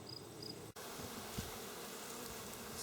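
A steady, dense drone of honey bees humming in a hive fills the whole stretch, close and continuous, with no voices.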